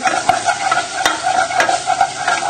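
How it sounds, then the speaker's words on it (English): A tablespoon of plain flour being stirred into cooked onions in a pan to make an oniony roux, close rhythmic scraping strokes over a soft sizzle. "Now we can add in a tablespoon of plain flour and give that a good stir in."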